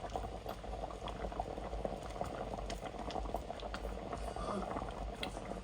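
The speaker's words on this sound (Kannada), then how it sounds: "ಒಂದು ಸ್ವಲ್ಪ ಇರಲಿ, ಒಂದು ಕುದಿ ಬರಲಿ ಅದಕ್ಕೆ" A pot of sambar boils on the stove, giving a continuous close bubbling and gurgling with small pops, steady and moderately quiet throughout.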